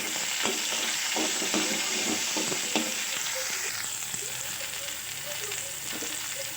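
Chopped tomato and onion sizzle steadily in a pan for dondakaya pachadi, a continuous crackling fry with brief clinks and stirring taps over an even hiss.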